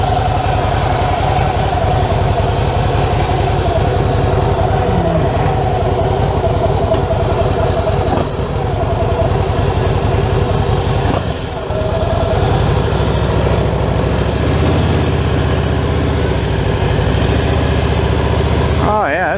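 A 2016 Harley-Davidson Fat Boy S idles up close, a steady low, lumpy engine rumble running throughout with a brief dip near the middle and no talk over it.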